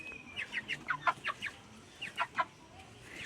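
Domestic chickens cluck in a quick series of short, sharp notes, a few birds close by, against faint farmyard background noise.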